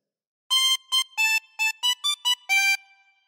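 A phrase of Pop Goes the Weasel on a tremolo harmonica, eight separate reedy blown and drawn notes of uneven length in a bouncing rhythm. The notes are close and clear with short gaps between them, and the last note is held longest.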